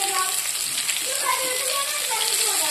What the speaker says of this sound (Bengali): এই যে করলা ভাজাটা বসিয়ে দিয়েছি